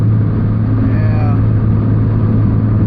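A turbocharged Honda Civic on the street makes a third-gear pull, its engine a loud, continuous low drone heard up close from inside the car.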